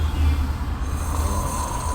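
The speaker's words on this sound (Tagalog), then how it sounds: "Grabe yung hilik niya yan." A child asleep and snoring after a tiring road trip, with low, rough breathing rumbles repeating through steady background noise, close and fairly loud.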